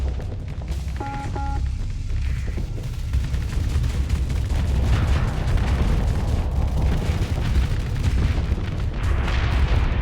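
A citadel in the video game Nex Revolution blows up in a sustained rumble of deep booms and crackling blasts, loud and continuous, with a few short tonal game beeps early on.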